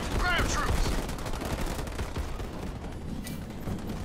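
Sustained gunfire aimed at ground troops in the real-time strategy game Halo Wars 2, a dense, continuous barrage of shots with explosive bursts, loud and steady throughout with no clear talk.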